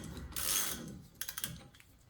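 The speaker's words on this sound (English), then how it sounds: "we're just gonna tighten it, hand tighten it as much as we can." Axle nut being hand-tightened on a Nissan Xterra during a front wheel bearing replacement, giving a few close, quick clicking ratchet-like bursts of metal mechanism noise, then several short taps.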